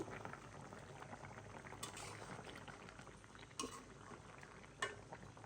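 Rohu fish curry bubbles at a steady boil in a pot, a continuous dense simmering burble with a few light clinks of the lid or utensil breaking through; no one talks.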